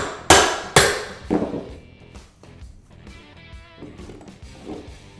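A hammer strikes at door trim molding during renovation work: two sharp, loud blows, then a softer third, followed by quieter scraping and creaking as the trim is worked loose.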